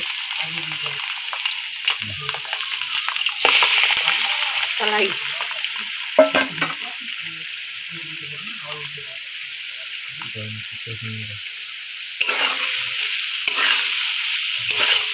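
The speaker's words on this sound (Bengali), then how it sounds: "এখন এটা তেলের মধ্যে দিয়ে ভাজতে হবে, কড়াইয়ের মধ্যে ভাজতে লেগে দিব" Toka frying in oil in a kadai: loud continuous sizzling and crackle with intermittent stirring scrapes and clinks, and a voice speaking in short bursts.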